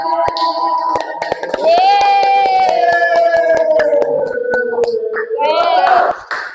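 A group performs the tepuk sakinah clap routine in a microteaching classroom, with sharp rhythmic claps punctuating loud chanted voices throughout.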